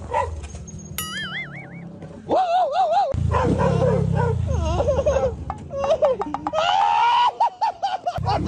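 Several dogs bark and yip excitedly while chasing a motorbike, with sharp repeated barks and whining cries layered over engine noise, loud and close throughout.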